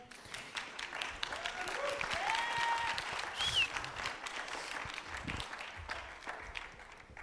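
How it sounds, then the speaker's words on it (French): Audience applause at a research partnership award ceremony, steady clapping across the room lasting several seconds, with a few faint voices and whoops mixed in. "nous accueillons sous vos applaudissements"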